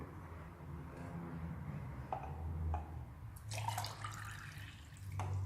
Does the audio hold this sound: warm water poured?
yes